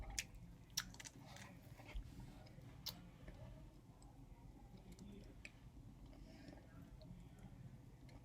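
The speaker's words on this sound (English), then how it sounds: "whenever you crunch on a Peep, it wants to make me eat one" Someone crunches and chews a Peep marshmallow candy, with soft, irregular mouth clicks and crunches close up over a steady low room background, and no talking.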